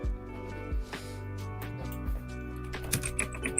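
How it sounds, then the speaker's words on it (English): Keys clatter on a gamer keyboard in a quick, light run of clicks close to the microphone, with a low hum underneath. "If you can hear that, I have a gamer keyboard."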